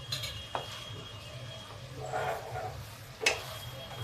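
Vegetables, potato and parwal, being fried and stirred in a pan, with faint sizzling under a steady low hum and a few sharp scrapes and clinks of the spoon against the metal.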